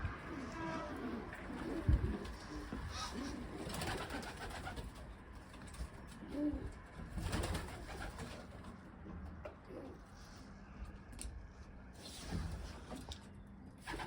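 Owl pigeons and fantail pigeons coo in a loft, low throaty calls repeating at moderate volume over a busy background of rustling and shuffling.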